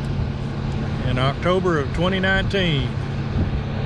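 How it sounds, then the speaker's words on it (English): Big Kenworth 953 trucks haul an oil rig during a rig move in Kuwait, their deep, steady engine drone rumbling underneath someone talking. "A couple of big old Kenworth 953s pulling it along."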